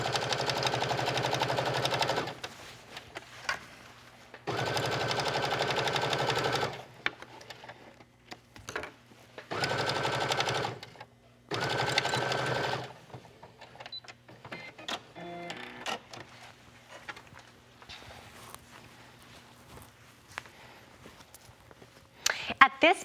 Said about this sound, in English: aligning the other side of my neckline, and stitching up the rest.